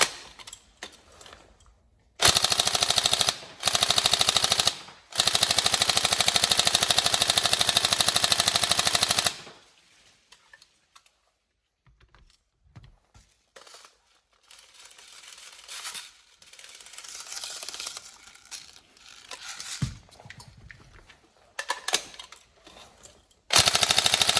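An upgraded Tokyo Marui 416D NGRS airsoft electric rifle fires in several loud full-auto bursts, each a rapid mechanical rattle, followed by quieter clicks and handling noises.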